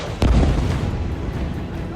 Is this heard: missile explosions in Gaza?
yes